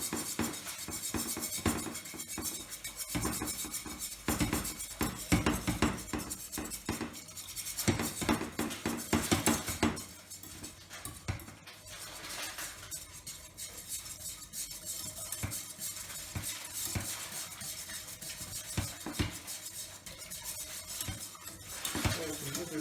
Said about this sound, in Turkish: Sütü eklerken de, sos pişerken de karıştırmayı unutmazsanız çok güzel bir sos elde etmiş olacaksınız.